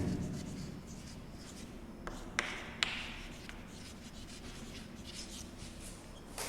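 Pen writing on paper while working a trigonometry proof, heard as a faint, close, steady scratching with a few light taps, no voices.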